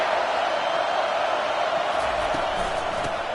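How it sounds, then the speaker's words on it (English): A stadium crowd roars in a sustained, dense wall of noise to greet the visiting team at a football game, with faint voices mixed into the broad din. "This crowd bringing an ear-splitting welcome to their visitors"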